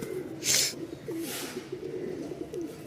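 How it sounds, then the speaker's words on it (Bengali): Pigeons coo in low, wavering phrases at a pigeon market in Mirpur, Dhaka, with a brief burst of flapping or rustling near the start; no speech. "একজোড়া কবুতর দেখতেই পাচ্ছেন"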